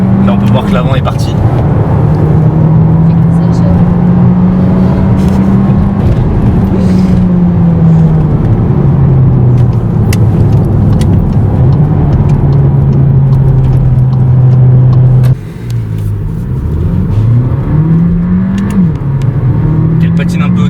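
SEAT Ateca 1.5 TSI 150 with a DSG7 gearbox pulls away from a start with slight wheelspin, its engine note rising steadily and loud, dipping and climbing again as the transmission shifts near the end.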